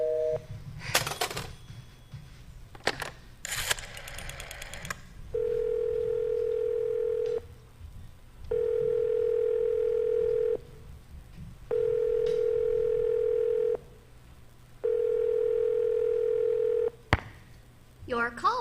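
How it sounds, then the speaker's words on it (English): A telephone is dialed with a few sharp clicks and rattles, then a busy signal sounds as four long, evenly spaced, steady tones with silent gaps, with faint voices in the background. "I've been dialing Murray Hill 70093 now for the last 3/4 of an hour, and the line is always busy"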